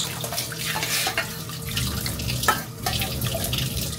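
Boiled water splashes steadily from a vessel into a container holding cumin seeds, a continuous near, close-miked pouring gush with small bubbling variations and no talk.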